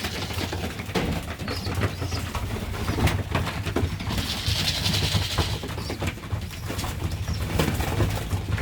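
Many young pigeons in a loft, with soft cooing and wing flaps over busy shuffling and rustling handling noise, close and fairly loud.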